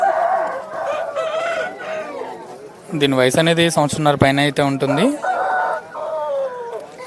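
A top-quality Mettavatam rooster at the Vijayawada rooster market lets out one loud, drawn-out crow of about two seconds, close by, while someone talks before and after it.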